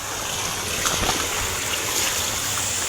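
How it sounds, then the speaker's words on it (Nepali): A swelling jungle stream rushes steadily nearby, a dense unbroken wash of flowing water with faint splashes and no pauses. "फेरि अर्को खोला"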